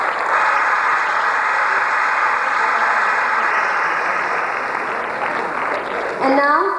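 Applause from the audience of an English stage play, A Murder is Announced, for the costume maker, a sustained broad clapping wash that fades slightly near the end as a voice begins over it.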